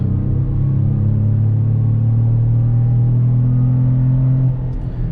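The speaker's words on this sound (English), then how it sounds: "just so you can hear that GM Performance intake and exhaust" A Chevy Colorado ZR2 pickup's non-V8 engine rumbles loudly and close through a GM Performance intake and exhaust, a deep, steady exhaust growl held under load before it eases slightly at the end.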